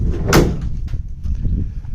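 A VW Type 2 van door under restoration latches shut with a sharp metallic click-thump near the start, followed by softer rattles and low handling knocks, close up and loud.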